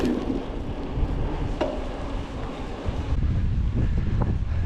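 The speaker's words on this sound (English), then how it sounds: "it was pretty cold and windy" Steady cold wind buffets a microphone throughout on a hill bike ride, a constant low rumbling roar with no voices, loud and close.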